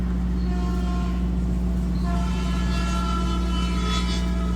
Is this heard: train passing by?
yes